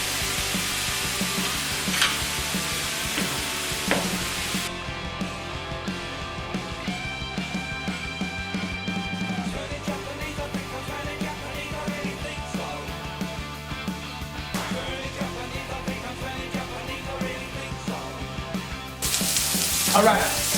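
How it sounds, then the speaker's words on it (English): Soy sauce sizzling in a hot pan during a stir-fry, a loud continuous frying hiss with stirring clatter, surging sharply near the end as more liquid hits the pan. "Now we add some soy sauce. Let that cook in."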